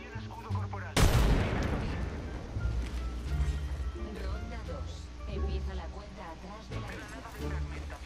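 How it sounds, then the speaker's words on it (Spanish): Gunfire in the video game Apex Legends: a sharp, loud shot lands early, then a steady wash of battle noise and more distant shots continues throughout, mixed with a voice. "Por allá hay disparos, ¿no?"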